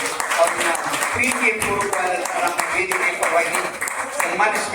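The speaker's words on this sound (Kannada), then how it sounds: "ಜೋರಾದ ಚಪ್ಪಾಳೆ ಅವರಿಗೆ" A crowd at a World Senior Citizens' Day event in Mudhol claps and applauds continuously, a dense steady patter of many hands, with voices mixed into the noise.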